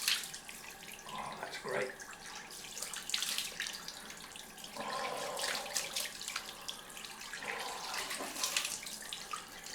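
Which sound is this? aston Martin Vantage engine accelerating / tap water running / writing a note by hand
tap water running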